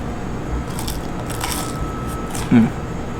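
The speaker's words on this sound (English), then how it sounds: "Really crunchy, airy on the outside, crisp" Bites into crunchy deep-fried lumpia with sweet and sour sauce at a Las Vegas restaurant produce a few short, crisp crackling bursts, heard close over low room murmur with some talking.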